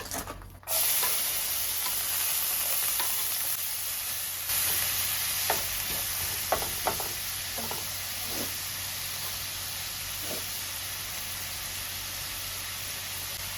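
Garlic and onion sautéing in a little oil for carbonara, a steady close sizzle and hiss with scattered soft scrapes and clicks of stirring, no talking.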